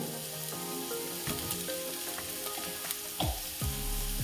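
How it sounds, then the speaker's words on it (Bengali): Chopped onions fry in hot oil in a home kitchen, a continuous close sizzle with occasional stirring and clinks of a utensil against the pan, and no talking. "আমি এর মধ্যে এই যে পেঁয়াজ যেগুলো কুচিয়ে রেখেছিলাম সেগুলো দিয়ে দেবো"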